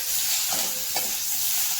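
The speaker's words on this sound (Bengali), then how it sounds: "এটাকে ভাজা ভাজা করে দেবো।" Raw tomato fries with brinjal and fenugreek leaves, a brief, loud, steady sizzle close up with a couple of soft stirring knocks.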